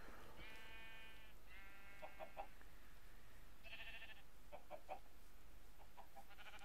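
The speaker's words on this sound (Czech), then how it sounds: "Ovce, ovce, ovce." Sheep bleating in Minecraft, several short wavering bleats in quick succession, with a few clucking fowl-like calls between them, clear and close against a low steady background hiss.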